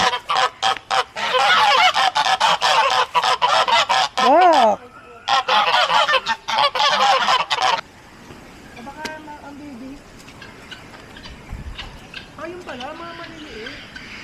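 Geese honk repeatedly amid a rapid, rhythmic rasping racket, then a few scattered honks sound farther off over quieter background; a voice briefly exclaims.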